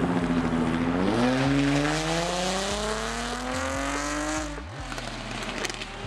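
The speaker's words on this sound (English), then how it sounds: "Alright, the F-Type's about to pull away." A Jaguar F-Type pulls away from a car meet, its engine revving loudly through rising gear pulls with sharp shifts, close and dominant over crowd noise.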